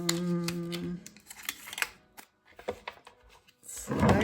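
Die cutting machine running iridescent shimmer cardstock through, with quiet intermittent mechanical clicks, rolling and shuffling of the plate, a tonal hum at the start and a louder rumble at the end.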